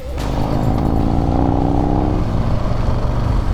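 Harley-Davidson Street Bob 114 motorcycle being ridden, its engine giving a steady, loud, close rumble with a rising rev early on, continuous throughout with no talking.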